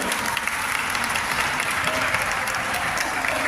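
Steady audience applause at a Sankranti celebration held by a foundation, a continuous dense clapping from a sizeable crowd, even and sustained throughout.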